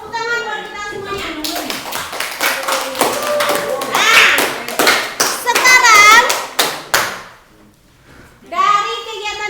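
Classroom applause during a student-centred lesson: a dense burst of clapping hands builds and then fades, with children's voices and a teacher talking over and around it.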